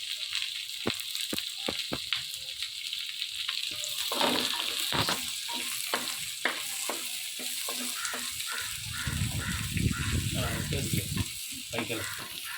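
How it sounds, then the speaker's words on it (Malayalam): Shallots and curry leaves frying in a pan for mutton curry, a steady close sizzle with repeated sharp clicks of a spoon stirring against the pan and a louder burst of crackling near the end. "ഉള്ളി ഇടുകയാണ്. അങ്ങനെ കറിവേപ്പില ഇട്ടു."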